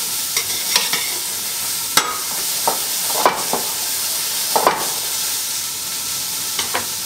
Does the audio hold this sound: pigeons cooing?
no